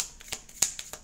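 A deck of tarot cards is cut in a brief series of soft, papery slaps and flicks, four or five quick close taps in about a second.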